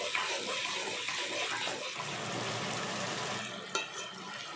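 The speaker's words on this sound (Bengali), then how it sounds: "ভালো করে জিনিসটাকে আগে কষাতে হবে" Potatoes with salt sauté in a pan for a litti curry, giving a continuous close sizzle with faint stirring scrapes and one brief clink near the end.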